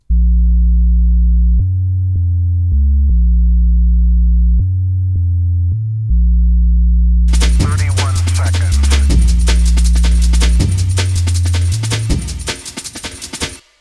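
A deep, pure sine-wave synth bass from the Basic Subsine preset plays a simple stepping line, joined halfway through by a full, busy backing track.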